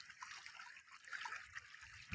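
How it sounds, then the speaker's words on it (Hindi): Water pours from a pipe into a wheat field as a steady, faint trickling flow with soft splashes, heard alone without any talking. "देखिए इधर पाइप द्वारा पानी आ रहा है"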